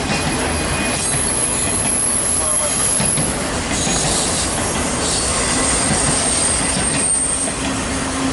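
GE Evolution series locomotive hauling a train past at close range, a loud continuous rumble of rolling cars with high metallic wheel squeal throughout, no talking.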